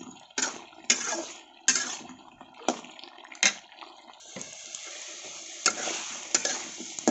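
Potatoes, shrimp and vegetable stems are stir-fried in a pan, with repeated scraping stirs and bursts of sizzling at an irregular rhythm, close and moderately loud, with no talking.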